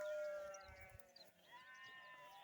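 Sheep and goats bleat in a herd out on open pasture, several wavering calls overlapping at a distance, fairly faint, with soft thuds and rustling beneath.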